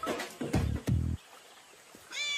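A cat meows in a few short, close calls, with a quieter, higher cry near the end and no talking.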